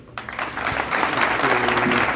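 Applause from the audience at a state congress press event honoring migrant organizations, starting abruptly and swelling into a loud, sustained, dense clatter of many hands.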